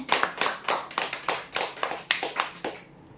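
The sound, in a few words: applause for a prize draw winner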